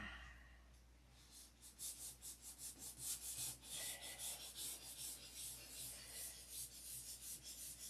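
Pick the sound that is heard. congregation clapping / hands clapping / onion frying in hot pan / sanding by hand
sanding by hand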